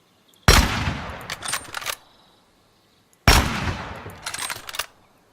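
A bolt-action rifle in Gunsmith Simulator empties its stripper-clip load in two loud bursts of rapid shots, each burst about a second and a half long, separated by a short silence.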